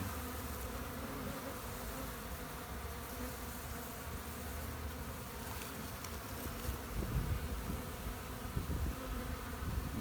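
Honeybees buzz steadily around a trap-out box fixed to a bee tree, a dense low outdoor drone that swells slightly near the end, with no talk.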